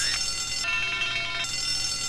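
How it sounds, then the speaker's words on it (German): An alarm rings steadily in GTA: San Andreas, a continuous bright electronic tone with a louder, denser burst partway through, fairly faint and heard alone without talk. "Da sind wir wieder und der Alarm läuft."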